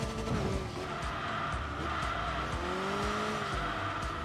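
A Saab's engine drones steadily in the Enthusia Professional Racing game, rising and falling in pitch as it revs, with a brief faint blow-off valve hiss, heard alone without talk.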